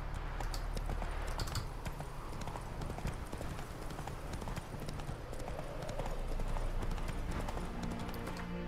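Horse hooves clip-clop at a steady walking rhythm in The Witcher 3, a continuous run of close hoof strikes over low ambient game sound, fairly quiet overall.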